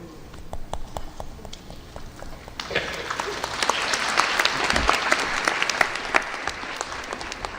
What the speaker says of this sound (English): thank you for applauding yourselves